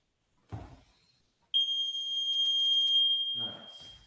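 A workout interval timer sounds a loud, steady high-pitched electronic beep lasting about two seconds during a Brazilian jiu-jitsu session, with brief talk just before and after it.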